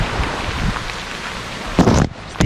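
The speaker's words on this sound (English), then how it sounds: "It's raining in paradise, and this is how it looks like when it rains in paradise." Tropical rain pours on the island of Praslin in the Seychelles, a steady dense wash of falling water throughout, with a louder burst of heavier splashing or gusting near the end.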